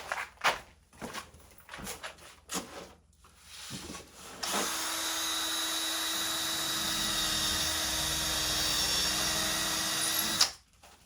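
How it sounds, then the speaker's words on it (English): A power drill bores into a ceiling during the installation of pipe clevis hangers and sheet metal. A few scattered knocks and handling noises come first, then the drill whines loud and steady for about six seconds before it cuts off abruptly. "my drill was going really easily into the ceiling"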